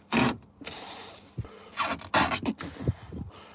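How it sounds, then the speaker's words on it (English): Old carpet being peeled up from a boat floor, with irregular tearing, ripping and scraping bursts that come in uneven pulls. "I'm peeling out the old carpet"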